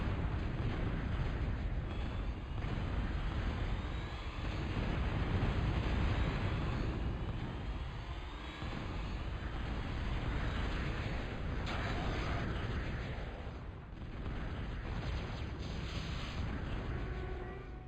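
Game explosions roar as an outpost is destroyed in Total Annihilation, a dense rumbling barrage of booms that swells and dips continuously at high volume.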